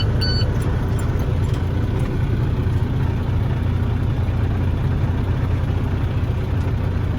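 A manual truck's engine idles steadily during a pre-trip inspection, a constant low rumble heard up close without any break or change in pitch.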